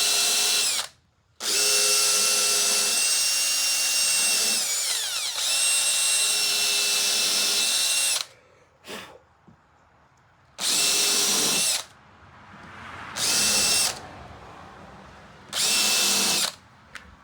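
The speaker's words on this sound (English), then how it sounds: "I countersink it." A power drill countersinks holes in a wooden coping sled, whining loudly and steadily in long bursts. The bursts are separated by short silences, with a few brief spurts of the motor near the end.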